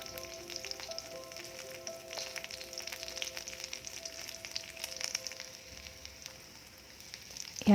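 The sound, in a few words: spices and garlic frying in hot oil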